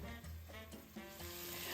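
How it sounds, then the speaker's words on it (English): Beef frying in olive oil in a pan for a Cuban carne con papas, a soft steady sizzle close by with no talk, low in level throughout. "Now we're ready to start frying our beef."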